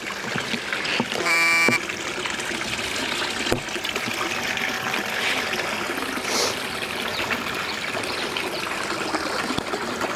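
Water trickles steadily from a garden pond filter outlet into a netted fish pond, a continuous soft splashing flow running throughout with a brief tonal chirp near the start.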